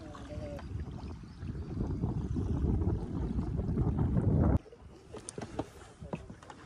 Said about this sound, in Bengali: আমরাও নৌকা নিয়ে এগোচ্ছি সামনের দিকে